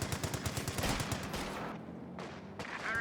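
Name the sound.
machine gun suppressing fire in Company of Heroes 2 video game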